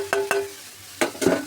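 Cabbage and fish head are stir-fried in spices, heard as four sharp, separate stirring scrapes against the pan over a low sizzle, close and alone.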